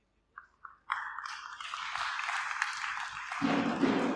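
Congregation clapping at a church gathering in Goa, a dense wash of applause that starts with a few scattered claps and swells into sustained, fairly loud clapping. It continues without pause, with a low rumble entering near the end.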